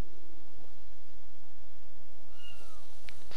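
A small kitten meowing in the hidden-object game Grim Legends: The Forsaken Bride, a few thin, rising mews over a steady hiss of background ambience, no speech.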